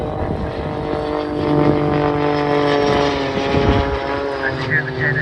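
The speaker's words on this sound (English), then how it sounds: "And you hear the jet engines wind up." Propeller aircraft with small jet engines at an air show, a loud steady drone with harmonic engine tones that swell and rise in pitch as the jets wind up, under crowd noise.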